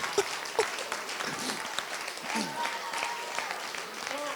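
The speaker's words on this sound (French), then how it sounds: "une bonne main d'applaudissement" Clapping from a gathered crowd at a speech event, fairly close and moderately loud, with scattered voices and calls heard over it.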